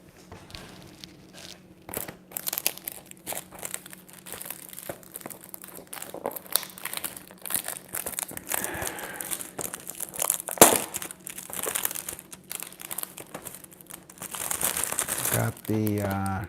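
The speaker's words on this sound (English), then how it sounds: "Got the cellophane off." Cellophane wrapper being crinkled and torn off a Celestial Seasonings Sweet Harvest Pumpkin Black Tea box, a long run of close, dense crackling and rustling with a steady low hum beneath and a sharper burst of handling near the end.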